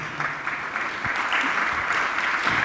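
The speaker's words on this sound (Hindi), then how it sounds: "एक बार इनका अभिनंदन कर दिए तालियों के द्वारा बंधु।" An audience at a religious question-and-answer gathering breaks into steady applause to welcome a guest, holding a dense, even wash of clapping throughout.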